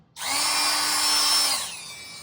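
A rotary tool fitted with a tiny ball burr dimples metal sheet for a pendant: a single close, high whine spins up, holds steady for about a second, then winds down.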